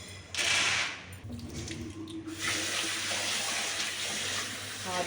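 Tap water runs into a sink as moong dal is washed before going into a pressure cooker, a steady close splashing flow with a brief dip partway through; a voice is faintly present.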